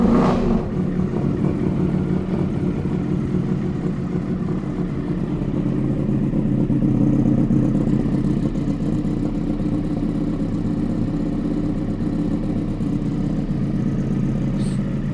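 A KTM Duke 350 motorcycle engine warming up after sitting idle for about ten days, a steady loud mid-pitched idle drone that holds continuously and close by with no talk.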